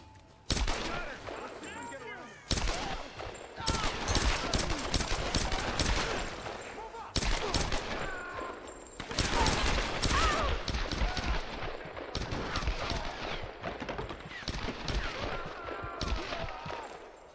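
Trench shotgun blasts in the action game Tomb Raider (2013), loud booming shots fired in quick succession with brief gaps, layered over other combat gunfire and game effects.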